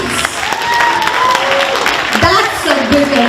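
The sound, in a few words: audience applause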